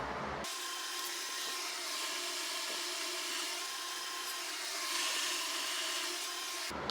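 An axe is sharpened on a belt grinder with a 60 grit belt, giving a steady, unbroken high whine with a gritty hiss of steel on abrasive. It runs for several seconds, close and moderately loud, and ends abruptly.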